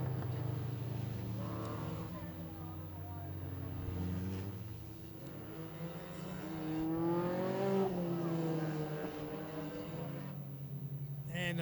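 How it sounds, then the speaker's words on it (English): Youth race cars circle Greenstone Park Speedway, engines droning and rising in pitch as one accelerates down the back straight, under a steady commentator's voice. "Putting the foot down the back straight, trying to attempt to pass the 23 car."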